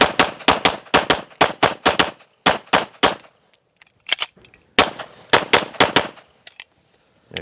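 Pistol gunshots during USPSA practical shooting training, fired in quick rhythmic strings of loud, close, sharp reports, with a short pause in the middle before a second burst.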